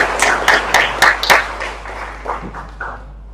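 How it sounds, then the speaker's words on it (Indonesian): A small audience claps briefly: a quick patter of a few close hand claps that thins out and fades within about three seconds, with no talking. "Oke, boleh minta tepuk tangannya nggak"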